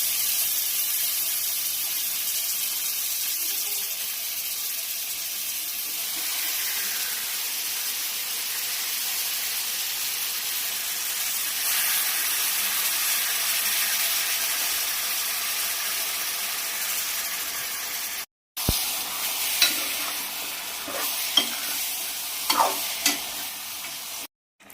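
Mutton pieces are tipped into frying ginger garlic paste and stirred, a steady close sizzle with a loud hiss, then a brief drop to silence followed by scraping stirs and sharper crackles.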